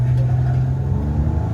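A Nissan car's engine droning steadily while driving, a close, continuous low hum heard from inside the cabin.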